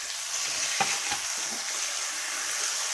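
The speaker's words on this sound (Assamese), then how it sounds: "অলপ দেৰি মই এনেকৈ ভাজি থাকিম।" Spiced meat fries in a pan with a steady close sizzle and crackle, broken by a few soft stirring scrapes and no talking.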